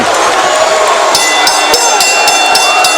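A boxing crowd at MGM National Harbor roars and cheers after a featherweight fight, a loud, dense wall of voices with sharp whoops and whistles cutting through near the end.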